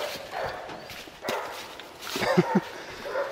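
A dog barking outdoors in the countryside, a couple of short, mid-distance barks near the end over a rustling, shuffling background.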